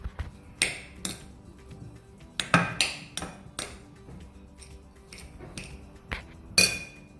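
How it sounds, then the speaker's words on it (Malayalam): Leftover rice, potato and carrot being mashed together in a bowl, with irregular sharp clinks and taps of a utensil striking the dish amid quiet soft scraping, no talk. "ചോറ്, പൊട്ടറ്റോ, ക്യാരറ്റ്. ഇനി ഇതിനെ നന്നായി സ്മാഷ് ചെയ്യണം."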